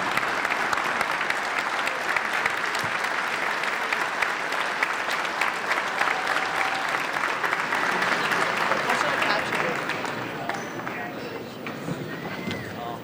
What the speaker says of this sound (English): let's have one more round of applause for the newest inductees in the University of Scranton Athletics Wall of Fame